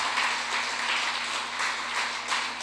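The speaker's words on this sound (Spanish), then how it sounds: "Dale un aplauso al Señor por eso." A church congregation applauding together, a steady wash of many hands clapping at moderate loudness for a few seconds with no talk over it.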